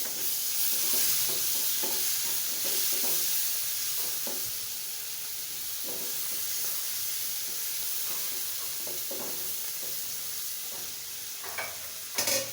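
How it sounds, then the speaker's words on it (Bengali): Shrimp fry in a pan with turmeric, fish masala and salt, giving a steady loud sizzle and hiss. Soft scrapes of stirring come through at irregular moments. "চিংড়ি মাছটা ভাজা হয়ে গেছে,"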